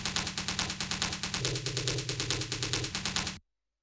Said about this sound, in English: this is just a tom sample